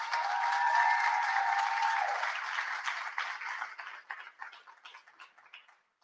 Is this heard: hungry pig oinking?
no